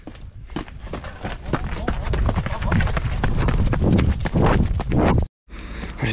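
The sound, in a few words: person running footsteps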